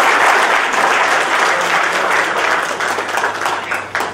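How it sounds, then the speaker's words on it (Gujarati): Loud, full applause from the audience at the Saurashtra Oil Mills Association directory launch, dense clapping that stays strong and then slowly tapers toward the end. "એક જોરદાર તાળી આપણે એને વધારીએ"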